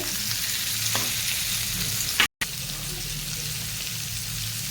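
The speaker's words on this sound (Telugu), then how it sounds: "ఉల్లిపాయలు పచ్చిమిరపకాయలు వేయించుకుంటున్నాను ఇందులో టమోటాలు వేసుకుంటున్నాను" Onions, green chillies and tomatoes fry in oil, giving a steady close sizzle that briefly cuts out for a moment before resuming, with no voices over it.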